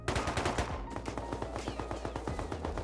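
Dense, overlapping automatic rifle fire from an LR and a Tommy gun in the survival game Rust, loud and continuous with rapid rhythmic shots layered over one another throughout, with no talk.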